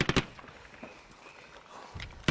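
Sharp impulsive gunfire bursts during combat in Afghanistan, a rapid cluster of loud shots at the start and a few more at the end, with quieter crackling between.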